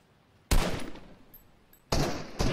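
Two loud bursts of rapid gunfire in Fortnite, the first sharp and decaying, the second starting later and continuing with a further shot, with quiet between.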